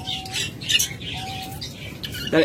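Caged pet birds at a bird seller's squawk and chirp in quick, sharp bursts, close and fairly loud, several overlapping calls packed into a couple of seconds.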